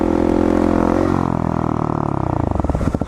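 Supermoto motorcycle engine revving hard in second gear for a wheelie, a loud close roar that climbs then breaks into a choppy, pulsing throttle blip toward the end.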